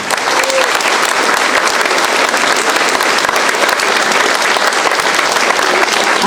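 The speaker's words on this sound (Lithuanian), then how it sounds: "Tad didžiausi aplodismentai vienų kitiems" An audience at a folk ensemble competition claps steadily, with dense, loud, sustained applause filling the hall throughout.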